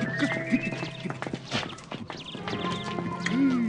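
A horse's hooves clip-clop in a quick, uneven rhythm close by, with brief higher vocal tones rising over the steady hoofbeats.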